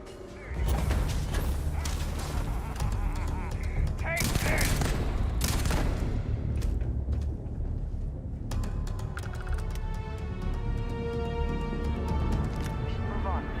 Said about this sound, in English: I heard the gunshots. They got to be coming.